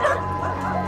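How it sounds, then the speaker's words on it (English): Rescued dogs that came from a meat farm give loud, close yelps and whimpering barks, several overlapping cries packed into under a second, with no talking heard. "So the dogs arriving today have been rescued from a meat farm."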